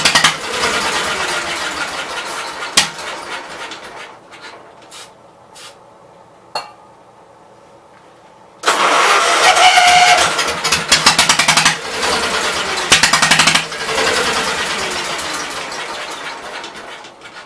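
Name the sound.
1974 Case 220 tractor engine running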